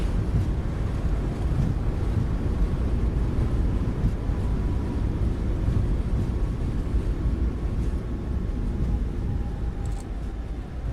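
Airliner thrust reversers roar steadily on landing in MSFS 2024, a loud broad rushing engine noise that holds for about eleven seconds and eases slightly near the end.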